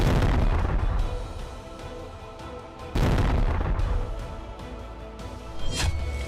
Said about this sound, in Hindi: ज़ेलेंस्की ने रूस के विराट शिप पर बड़ा धमाका किया है।